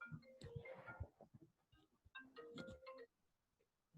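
A phone rings quietly nearby, with two short bursts of a tonal ringtone separated by a pause, heard without any talk.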